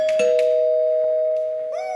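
Doorbell chime at a door during a school stage performance of The Wizard of Oz: a clear, steady sustained ding-dong tone that fades slightly before a short rising note at the end.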